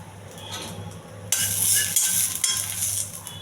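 Cumin and mustard seeds sizzle in hot oil for a tempering, a bright crackling hiss that bursts up suddenly and continues close by, with light stirring and utensil clinks.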